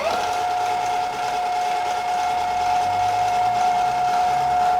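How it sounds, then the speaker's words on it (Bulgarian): A steady electric motor whine from a KuKirin X1 electric motorbike hums continuously at one pitch, loud and close, with no voices. "И имаме много як звук от мотора."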